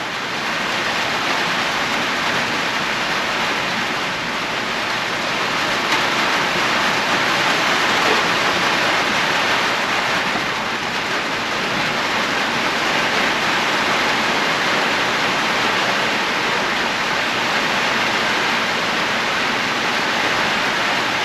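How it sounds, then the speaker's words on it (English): Light rain drizzles steadily outdoors, a continuous soft hiss that holds at an even level for the whole stretch with no voices. "She's starting to drizzle a little bit."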